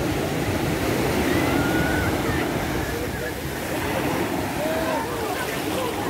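Ocean surf on a beach at Porto de Galinhas, Ipojuca, Brazil, as the tide rises: a loud, steady wash of breaking waves and churning water with wind, continuous throughout.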